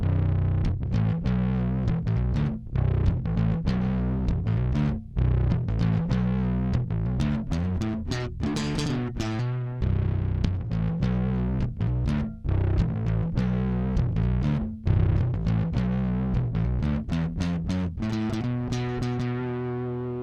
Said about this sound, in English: distortion with the pick.